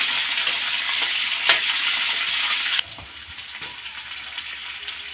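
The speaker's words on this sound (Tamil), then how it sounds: "வெங்காயம் வதக்கி விட்டுக்கலாம்." Four large chopped onions sauté in hot oil in a pan for chutney, giving a loud, steady sizzle that drops sharply partway through as they are stirred, with soft scraping afterward.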